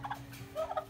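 Farm turkeys being gathered for butchering give short, close gobbles in two quick bursts within a second, over a low steady hum.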